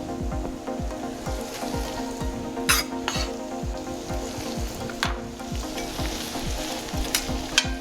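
Shrimp and scallops sauté with vegetables in a hot pan, a steady close sizzle with regular scraping stir strokes and a few sharp clinks of utensil on metal.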